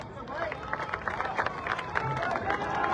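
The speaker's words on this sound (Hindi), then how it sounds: "जो आपकी तालियों की गड़गड़ाहट की मैं आवाज सुन रहा हूं" A crowd at a political road show in Kutch, Gujarat claps and cheers, a dense rumble of applause mixed with crowd babble that builds slightly over a few seconds, with a voice over the noise.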